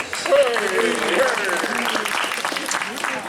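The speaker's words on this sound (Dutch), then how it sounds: "mocht dat maar een applaus hebben" An audience applauds at the opening of the Thiss Boete 2019 event, a steady wash of clapping with voices mixed in throughout.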